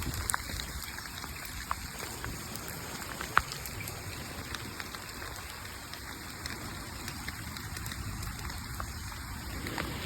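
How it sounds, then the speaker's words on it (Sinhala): Heavy rain falls on the Sri Pada pilgrimage trail in Sri Lanka, a steady close hiss of drops pattering on surfaces with scattered louder taps and a trickle of running water, with no voices. "පට්ට රැස්සක් වහින්නේ"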